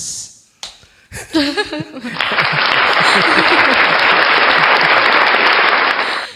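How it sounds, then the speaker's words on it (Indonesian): Audience applause swells loud and steady after a few scattered claps, rolling on for several seconds with a burst of voices at the start, at a talk event for fathers in Indonesia. "Jadi itu Bu Winarni, karena operatornya lagi bengong jadi aplausnya Manual."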